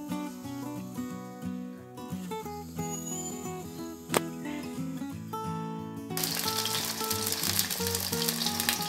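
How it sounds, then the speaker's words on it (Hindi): Bottle gourd pieces fry in mustard oil in a kadhai, a soft sizzle beneath background music that turns into a louder, dense crackling hiss toward the end. "तो इसमें हम सभी बंडा को पहले फ्राई करेंगे।"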